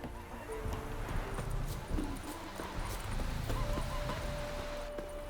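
Horse hooves clip-clopping at a steady gallop during a race in The Witcher 3, with a whinny and voices talking over the rhythmic, close hoofbeats.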